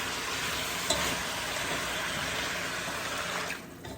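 Pepper steak simmering in a pan with gravy, a steady close bubbling sizzle with light stirring scrapes throughout, easing slightly toward the end.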